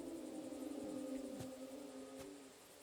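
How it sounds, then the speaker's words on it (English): Wolves howl in the video game Kingdom Come: Deliverance II, with long, wavering tonal howls that overlap at a moderate distance, sustained over a low ambient backdrop. "Those wolves that I'm hearing?"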